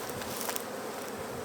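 Honeybees from a healthy colony buzzing at an opened hive, a dense, continuous hum filling the clip at close range with no voices.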